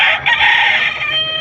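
A chicken gives a loud, close crow-like call at a poultry market in Padre Garcia, Batangas, a single drawn-out vocalization lasting over a second.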